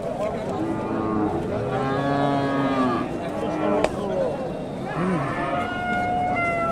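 Friesian cattle low at a busy rural cattle market, several drawn-out moos rising and falling one after another, loud and close over crowd murmur and background chatter.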